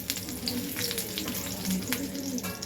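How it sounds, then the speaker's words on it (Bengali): Eggplant slices frying in oil in a home kitchen, a soft steady sizzle with faint bubbling crackles, close but fairly quiet and heard alone. "দেখুন আমার বেগুনগুলো লাল করে ভাজা হয়ে গেছে"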